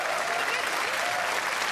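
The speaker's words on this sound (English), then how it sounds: "Give him a round of applause." Dense, steady applause from a crowd for the race winner at a World Tour Nations Cup final in Sydney, loud and continuous through the short moment.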